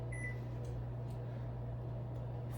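A microwave oven hums steadily while heating popcorn, a low constant drone with faint ticks and a brief high tone near the start, quiet and with no speech.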